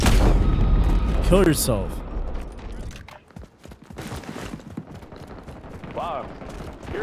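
Gunfire from a Modern Warfare multiplayer match, with dense shots and booms packed into the first few seconds, then scattered cracks further off. A voice talks over it.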